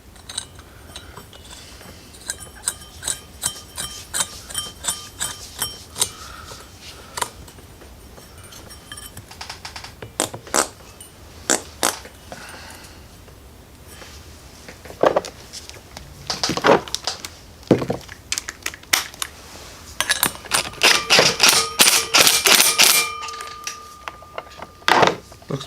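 A torque wrench tightens the big crankshaft nut on a Predator 212 engine: a run of fast ratchet clicks, then scattered metallic clinks and denser clicking bursts toward the end, close by with no talking.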